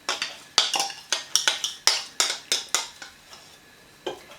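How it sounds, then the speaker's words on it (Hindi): A fork mixing apple pie pastry dough with milk and oil in a bowl, giving a run of sharp clinking scrapes against the bowl, close and fairly rapid, then slowing to a few last taps. "इसको अच्छे से पहले यहाँ पर मिक्स कर लेते हैं फॉक की मदद से"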